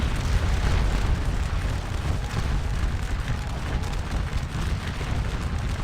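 Massed musket fire from infantry lines in a woodland fight in the Waterloo battle video game Scourge of War Waterloo, a dense continuous rumble of crackling shots and booms, loud and steady throughout with no talking.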